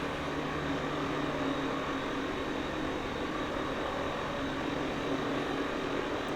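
A small propeller plane comes in to land on a beach in Microsoft Flight Simulator 2024, its engine a steady, dense drone that stays even and unbroken throughout, with no talking.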